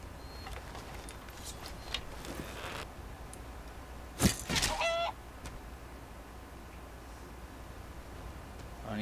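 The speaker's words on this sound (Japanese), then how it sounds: "でかい鳥がいる。" A large bird calling in the video game Enderal: Forgotten Stories: a brief, harsh squawk mid-way through, over a faint, quiet ambient background.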